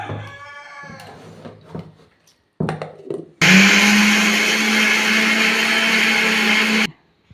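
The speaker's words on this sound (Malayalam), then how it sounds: "പപ്പടം ഇതിൽ വെച്ചിട്ട് നമുക്ക് മിക്സിയിലിട്ടിട്ട് അരക്കാം" A kitchen mixer grinder whirs loud and steady for several seconds, grinding soaked papadum with a splash of water, after some brief handling clatter before the motor starts and cuts off.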